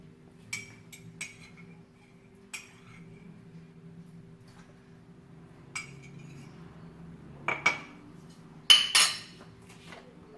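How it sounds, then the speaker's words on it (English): Spoon stirring cake batter for a Polish apple cake: light metallic clinks and taps against the bowl at irregular intervals, with soft scraping in between and a quick cluster of brighter clinks near the end, over quiet room hum. "We will take each spoon and put it into our mixer or batter and mix it slightly."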